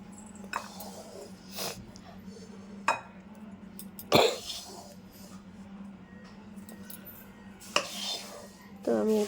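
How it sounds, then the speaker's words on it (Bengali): Roasted besan laddu mixture is scraped from a pan into a bowl, giving several sharp metallic clinks and scrapes of a spoon on cookware at irregular intervals over a steady low kitchen hum, with no talking. "তো আমি এটি বাটির মধ্যে নামিয়ে নিলাম।"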